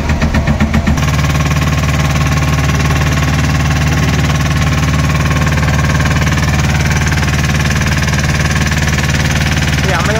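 A boat engine running on the Narmada river near Omkareshwar, a loud, steady droning hum that continues without a break after a brief knocking start.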